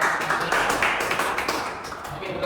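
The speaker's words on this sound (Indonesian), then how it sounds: "Tepuk tangan untuk 2 kelompok pada." Classroom applause for two student groups after a lesson on Islam Berkemajuan, a steady patter of many hands clapping indoors for a couple of seconds.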